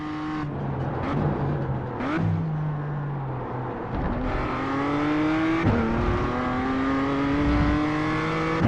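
BMW M2 CSR race car in the iRacing sim, engine note climbing and dropping through several downshifts with sharp rev blips, loud and steady throughout.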